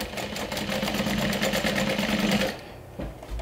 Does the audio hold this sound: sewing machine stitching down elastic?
yes